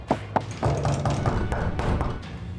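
Knocking on a hotel room door, a few sharp taps at the start and then a steady muffled knock rhythm with background room noise.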